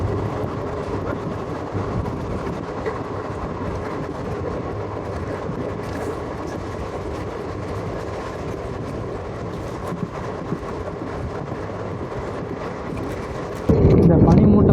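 Passenger train running from Tirunelveli to Sengottai, a steady rumbling roar of carriages in motion that holds even throughout, turning louder and rougher in the last second.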